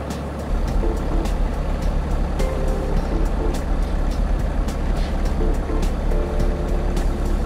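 A small single-engine airplane taxis at Claremont airport in New Hampshire, its engine droning steadily and loudly close by with a constant low rumble and no talk.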